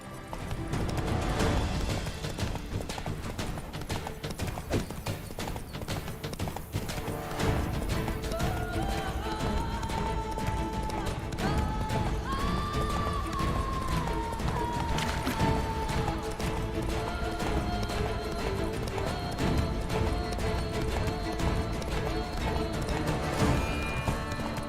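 A horse galloping in The Witcher 3 video game, with steady rhythmic hoofbeats throughout under game music and effects, and a brief voice in the middle.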